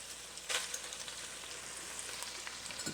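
Onions sizzle in a pot for an Italian sausage Parmesan soup, a steady close frying hiss with a sharp burst as they hit the pan at the start, no talking.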